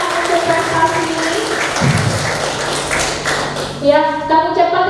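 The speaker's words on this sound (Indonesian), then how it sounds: "Tepuk tangan untuk prestasi ini." A crowd at a nursing diploma graduation and oath ceremony claps for the graduates, a dense continuous patter of hands, loud and close, with a voice on a sound system starting to speak near the end.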